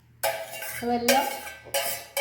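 Spoon scraping and clinking in a pot while mixing tamarind rice, three bursts of stirring separated by short pauses, close and clear.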